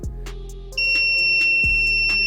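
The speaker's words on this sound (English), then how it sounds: "the buzzer is alarming" A DIY vending machine's electronic buzzer alarm sounds a steady high-pitched tone for an out-of-stock product, starting abruptly partway through and holding, with a couple of low thumps underneath.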